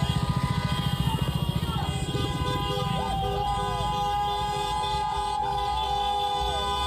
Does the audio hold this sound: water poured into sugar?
no